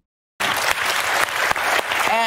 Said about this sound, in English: Y'all out there clapping